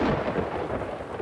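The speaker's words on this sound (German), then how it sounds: "Ey, nicht hier einschlagen. Bloß nicht, dass der Blitz einschlägt." A thunderstorm in the city-building video game Farthest Frontier rolls on as a continuous deep rumble of thunder with rain, loud and steady for the whole stretch, with no voices.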